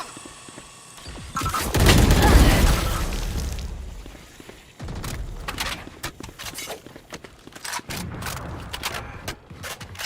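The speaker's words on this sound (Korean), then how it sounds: "미역소 폭탄 로봇 출동!" In the video game Valorant, the Boom Bot ability is deployed amid a busy match, with a loud burst of gunfire and blasts early on, followed by scattered shots, pops and clattering effects.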